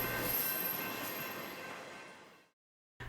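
EMD SD70ACe diesel locomotive train rolling along rails, a loud steady rumble with wheel squeal that fades out over a couple of seconds, then a brief burst of noise returns at the end.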